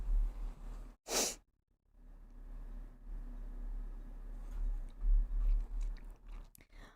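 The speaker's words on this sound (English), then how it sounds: "I gotta sneeze." A single sharp sneeze bursts out amid quiet breathing and faint mouth noises, followed by soft sniffles and shuffling.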